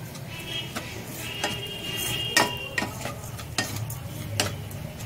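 Spices for urad dal kachori filling are mixed as they fry in a pan, a low sizzle under repeated clicking scrapes and taps of a spoon on the pan, close and fairly rhythmic.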